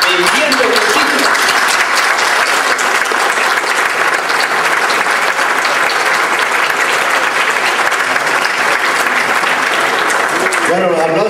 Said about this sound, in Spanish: los aplausos quieren decir que lo hiciste maravillosamente bien